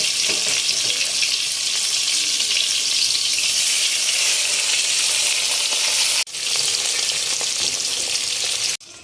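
Pomfret fish fries in hot oil in a pan for a mustard fish curry, a loud continuous sizzle and crackle close by, briefly cut off near the end.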